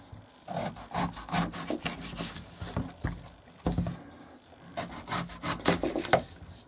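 Eggplant of the Bibo variety, grown in open ground, sliced lengthwise with a knife: close scraping, rasping cuts in short irregular bursts, moderately loud with no voice over them.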